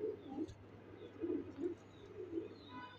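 Pigeons coo softly in short repeated low bursts, fairly quiet and close, around a Gorra breed female pigeon, with a few faint chirps in the background.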